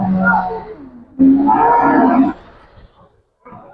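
Native cattle low at a Christmas livestock market in Perumbilavu, Kerala, with two long, loud, close calls followed by a quieter fragment.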